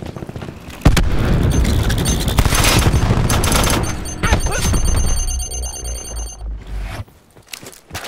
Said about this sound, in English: Throwing cluster grenade.